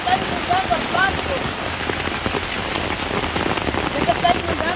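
Heavy rain from a strong storm pours steadily onto surfaces close by, a dense continuous patter with scattered drips, and faint chirps in the background.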